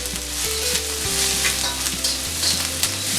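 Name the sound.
garlic, ginger and green chilli being roasted in a pan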